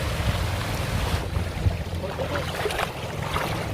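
A small island tour boat on the water off Malapascua, with a steady engine drone and wash of water and wind filling the whole stretch at an even level, no talking.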